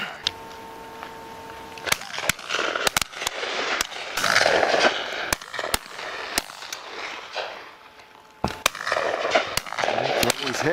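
Shotgun shots fired at a partridge on a misty shoot, a series of sharp, loud cracks scattered through the clip, several in quick pairs, over outdoor noise and voices.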